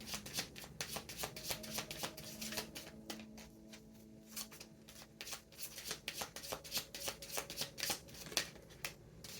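Oracle cards being shuffled by hand, a dense run of rapid riffling flutters and soft slaps that continues for several seconds, close up and alone with no talk.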